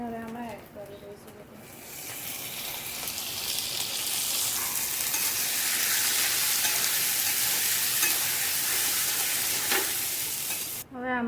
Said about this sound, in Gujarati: તો આપણે આની અંદર હવે મકાઈને છીણીને રાખી હતી ને એ આપણે હવે આમાં એડ કરી દઈશું.